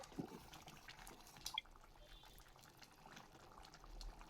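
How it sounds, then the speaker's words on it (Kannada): Rajma curry boils in a pot with a faint, steady bubbling and a few small plops and drips, quiet and close, with a brief clink partway through. "ನೋಡಿ ಎಷ್ಟು ಚೆನ್ನಾಗಿ ಕುದೀತಾ ಇದೆ."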